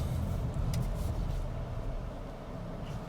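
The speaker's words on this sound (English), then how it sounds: "We can try one out off the line in sport mode" A 2025 Hyundai Tucson SEL pulling away from a stop in sport mode, a dense low engine and road rumble from inside the cabin that swells early, then eases slightly, with a few faint clicks.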